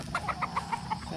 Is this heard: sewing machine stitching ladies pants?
no